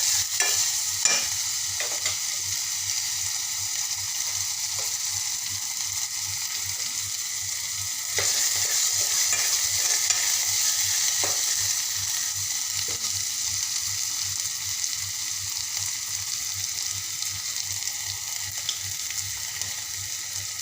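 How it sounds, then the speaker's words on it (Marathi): Chopped tomatoes sautéing in hot oil in a pan for veg Kolhapuri, a continuous close sizzle broken by occasional stirring clicks and scrapes, steady throughout with no speech. "त्याला छान असं मस्त परतून घेणार आहे टोमॅटो छान दोन मिनिट मी शिजू देणार आहे"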